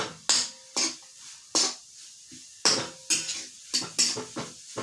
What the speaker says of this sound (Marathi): तूप घातल्यानंतर ना आपण जो खीस केलेला आहे तो खीस घालून द्यायचा आणि थोडंसं हलवायचं